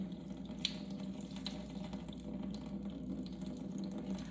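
Rinsed quinoa being strained by hand in a kitchen sink, giving a steady, close wash of running and splashing water with no talk.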